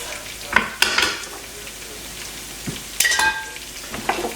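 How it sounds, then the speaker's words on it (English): A utensil scrapes cooked-on bits from the bottom of a hot pan, giving a few sharp close scrapes over a soft sizzle, with no talking. "go ahead and scrape up this that's cooked to the bottom as much as possible"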